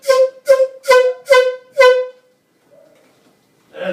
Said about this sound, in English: Somebody put an air horn.